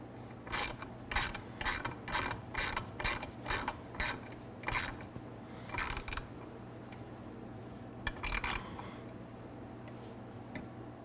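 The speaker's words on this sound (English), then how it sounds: "take your 4 millimeter Allen key and your 10 millimeter ratchet" A 10 mm ratchet clicks in short, evenly spaced bursts while tightening a bolt on a highway peg bracket for a 2020-and-later RT series motorcycle, close and crisp in a quiet room, with a final flurry of clicks.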